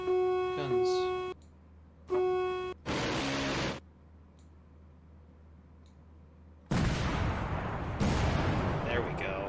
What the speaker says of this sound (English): Who's firing guns?